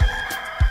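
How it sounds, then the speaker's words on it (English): Two short, close, loud calls from a rooster on a farm, evenly spaced about half a second apart over a steady humming background. "The rooster makes a sound like this."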